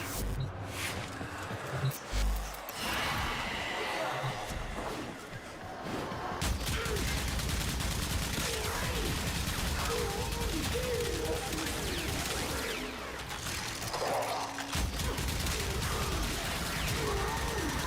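Kuva weapons fire in Warframe in dense, continuous bursts with clattering mechanical noise and impacts, loud and close throughout, with brief quieter gaps near the start.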